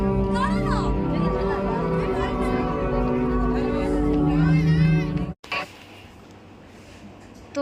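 A dense, noisy crowd packs a Durga Puja pandal at night, with many overlapping voices, children's shouts and whoops close by, then an abrupt cut to a softer, more distant murmur of the throng.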